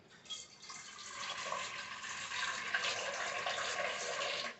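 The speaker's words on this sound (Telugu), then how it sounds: "సో దీంట్లో నేను ఇప్పుడు వాటర్ పోసేసుకొని" Water pours steadily into a steel pot in a kitchen, a soft continuous splashing rush lasting a few seconds with no voices.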